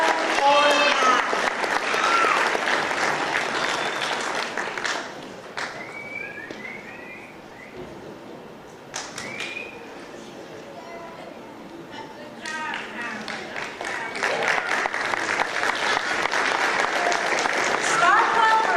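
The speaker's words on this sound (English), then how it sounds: "Let's give another round of applause to our Star Club for math." Audience at a county school board meeting applauding a math Star Club, loud clapping that dips into a quieter stretch with scattered claps and brief voices, then swells back to full applause.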